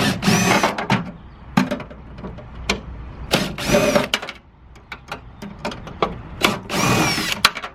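A power tool backing out the window regulator bolts on a Mazda Miata door, several short loud whirring bursts separated by pauses and small clanks, close up.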